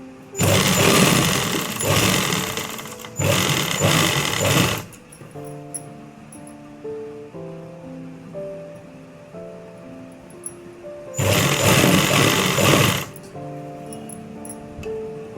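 A sewing machine stitches the crotch seam of a pair of trousers in two loud, rapid bursts, the first about four seconds long and the second shorter. A quieter stretch with steady tones sits between the bursts.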